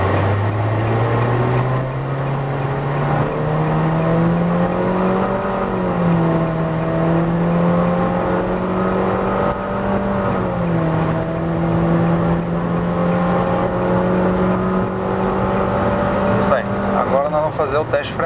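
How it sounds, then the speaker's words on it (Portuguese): A 2017 Nissan Kicks accelerates hard from 0 to 100 km/h uphill in Sport mode with a passenger aboard, its engine drone climbing steadily in pitch for about eighteen seconds, heard from inside the cabin while someone talks over it. "vamos fazer agora um teste de 0 a 100, né?"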